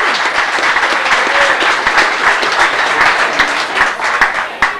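An audience applauds for Father Gabriel and his fellow priests at a priesting celebration, a dense sustained round of clapping with a few sharper individual claps standing out near the end.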